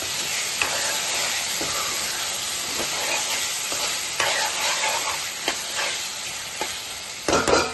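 Washed prawns are stirred into a prawn and chana dal curry in a hot pan. A loud, continuous close sizzle and hiss runs under scattered scraping knocks from the spoon.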